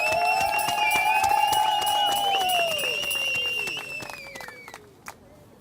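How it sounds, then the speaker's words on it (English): Crowd at a human rights vigil outside the Zimbabwe Embassy in London, with clapping and cheering under a loud sustained whistled or sung tone that gradually fades. "So give yourselves a big round of applause."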